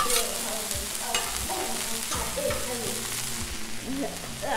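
Three cups of rice fried and stirred on a Blackstone griddle for shrimp fried rice, with a loud continuous sizzle and repeated scraping strokes of a spatula across the flat-top, close by.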